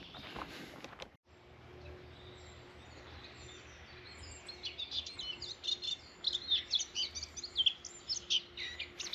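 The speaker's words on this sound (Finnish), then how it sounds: "Mustapääkerttu on yksi harvinainen lintu, mikä pesii täällä Viikinsaaressa, ja sen laulu on tommonen aika omintakeinen." A Eurasian blackcap sings on a nature trail on Viikinsaari island: a faint, distant warbling of quick chirps and tweets builds over the second half, against a low outdoor hum.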